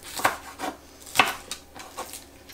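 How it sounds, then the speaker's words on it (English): A knife slicing through green onions on a cutting board, five or six crisp separate chops spaced about half a second apart, close and clear with no talking. "we're going to cut 6 green onions"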